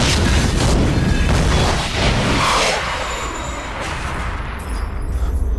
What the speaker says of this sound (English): they shot up the chambers, which caused an explosion